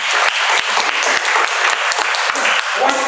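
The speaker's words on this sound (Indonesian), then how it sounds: "Ini tepuk tangan yang paling mulia" A church congregation applauds during a worship service held in an apartment building, a dense steady wash of clapping lasting throughout, loud and close with some voices mixed in.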